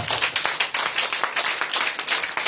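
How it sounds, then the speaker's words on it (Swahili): A Sunday church congregation bursts into loud, sustained clapping, many hands beating in a dense, fast patter that fills the room without pause. "Pigia Bwana makofi makubwa"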